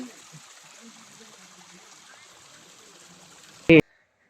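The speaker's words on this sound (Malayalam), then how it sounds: "ഇതുപോലെ വെള്ളം ഒലിച്ചു വരുന്നുണ്ട് കേട്ടോ" Water trickles down through small gaps beside a walking path in Eravikulam National Park, Munnar, as a faint, steady flow, broken near the end by a brief loud knock.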